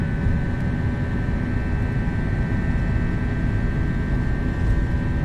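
FSLabs A321-SL airliner with sharklets taking off in the Prepar3D 5.1 flight simulator at Cleveland, a steady loud jet engine roar with a constant high whine holding throughout, no voices.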